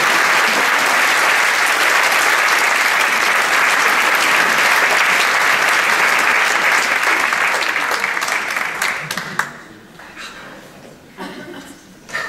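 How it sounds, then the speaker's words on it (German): Audience applause in a German comedy setting, loud dense clapping that holds steady for several seconds, then thins out and fades to scattered claps near the end. "Ein Applaus"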